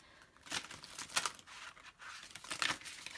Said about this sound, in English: One more shuffle, Spirit's telling me.